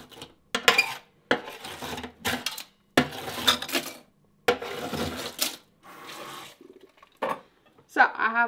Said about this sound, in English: Let's go wash dishes.